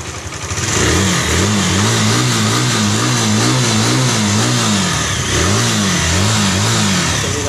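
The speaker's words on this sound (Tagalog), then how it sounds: "Palyado yung kanyang andar mga ka-DJK." Suzuki GD110 motorcycle engine running rough and misfiring, close and loud, with a wavering, uneven rhythm that stumbles and recovers as it idles and revs.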